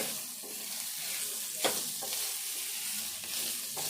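Chilli powder being stirred into a potato and wheat-flour snack mixture in a pan, a steady soft sizzle with scraping spoon strokes and one sharper knock midway, close and alone.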